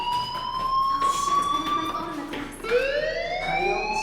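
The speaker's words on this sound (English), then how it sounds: "Hey, do you hear that fire alarm?" A school fire alarm in Life Is Strange rings loud and steady with a piercing, siren-like tone that briefly dips and then resumes, filling the whole stretch with no voices over it.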